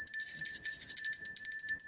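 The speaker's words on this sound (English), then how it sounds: "I still like ringing the bell" A small bell rings repeatedly, its bright metallic tone sustained over two seconds as a steady jingling with no voices.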